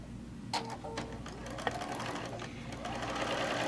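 A sewing machine stitches down quilt blocks, its close, steady whir rising through a few short runs before settling into continuous sewing.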